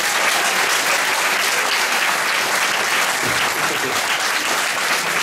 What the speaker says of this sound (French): vous pouvez les applaudir très très fort